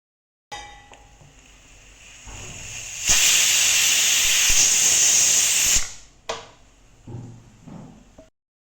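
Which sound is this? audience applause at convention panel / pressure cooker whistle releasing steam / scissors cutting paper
pressure cooker whistle releasing steam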